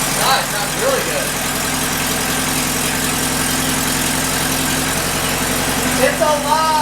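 A restored Porsche 912 engine, back after 43 years off the road, idles steadily and loudly close by with a continuous low rumble, while excited voices talk over it.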